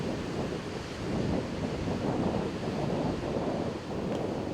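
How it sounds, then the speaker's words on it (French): Strong ocean surf breaking on Grand'Anse beach at Terre-de-Haut, Les Saintes, a steady loud roar of churning waves with wind buffeting the microphone, continuous and close throughout. "les vagues peuvent être fortes et dangereuses"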